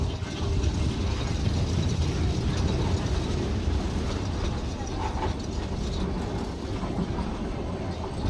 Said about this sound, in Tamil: கல்லார் அப்படின்ற இந்த இடத்துல இருந்து தான் அந்த ரேக் அண்ட் பினியன் சிஸ்டம் மூலமா இந்த ட்ரெயின் வந்து மேலே ஏறப்போகுது